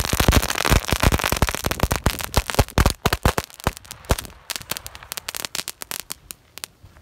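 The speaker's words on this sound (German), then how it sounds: "wir haben D-Böller, wir haben Reibkopfknaller und wir haben ganz kleine und da unten noch sogar Crackling" D-Böller and friction-head bangers go off on a public street in a dense, loud barrage of sharp cracks and bangs, rapid at first and then thinning into scattered reports.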